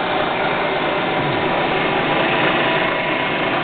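An ENCO 9 x 49 inch knee mill spinning in high gear at about 1800 RPM, giving a steady, dense mechanical whir and hum that holds an even level throughout, close by, with no talk.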